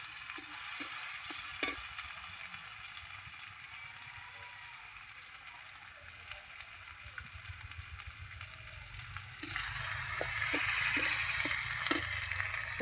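Ginger garlic paste frying in oil in a pan, a steady soft sizzle throughout with occasional scraping stirs, growing slightly louder and busier toward the end.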